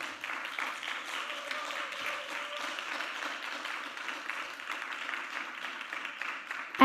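A closing-session audience applauds a scientific committee as its members come forward, steady broadband clapping held at an even level for several seconds with no talk over it.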